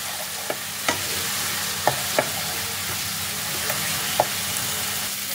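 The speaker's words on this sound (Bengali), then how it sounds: "আদা রসুনের পেস্টটাকে পেঁয়াজের সাথে ভালো করে কষিয়ে নিতে হবে" Ginger garlic paste sautéing with onions in a pan hisses and sizzles steadily, with a few sharp clicks of a spatula stirring against the pan.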